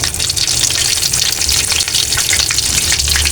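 Tilapia fish frying in hot oil, giving off a loud, steady, close crackling sizzle that carries on without a break and with no voices.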